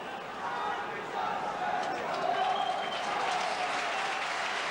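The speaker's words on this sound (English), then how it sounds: "Just listen to the applause for Robertson." Football crowd at a Hearts v Hibernian match applauding a substituted player, a loud continuous wash of clapping and crowd noise lasting throughout, with a commentator's voice faintly mixed in.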